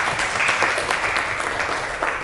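A high school class clapping together in a classroom, a brief, even patter of many hands held at a steady level throughout.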